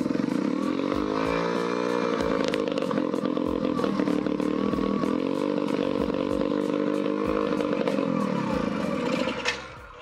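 A Dodge Charger Cop car's V8 idles high with a steady rough rumble and rapid ticking pulses, close and continuous, with faint speech at the edges.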